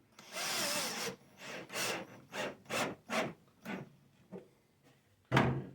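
A power drill drives a drywall screw into old 1870s lumber in a string of short whirring bursts, one long run then several quick pulses and a final burst, close and fairly quiet.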